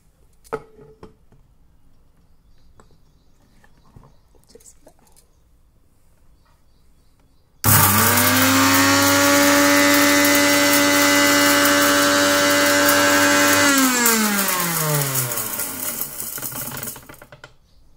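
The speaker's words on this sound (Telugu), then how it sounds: "ఇది మొత్తం మిక్సీలో వేసి పౌడర్ చేసుకోవాలండి" An electric mixer grinder powders a load of dry spices for lime pickle, starting abruptly with a loud, steady whine that runs for about six seconds, then spins down slowly. Quiet room noise comes before it.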